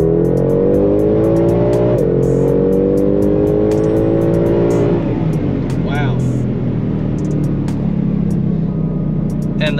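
A Ford Shelby GT500 accelerates hard down a back road, its loud, close engine note climbing steadily, dipping briefly at a gear change, then climbing again before easing off.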